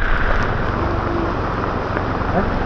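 Heavy rain pours steadily over a market in Nha Trang, a dense, even hiss that holds for the whole stretch.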